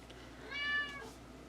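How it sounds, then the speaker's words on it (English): A house cat gives one short, quiet meow in an otherwise calm indoor room. "My little kitty's not approving of all this."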